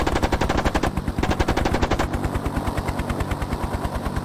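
A helicopter cannon in the Hind video game fires at a tank in rapid sustained bursts, dense evenly spaced shots rattling loudly, briefly pausing then resuming at a slightly slower steady rate.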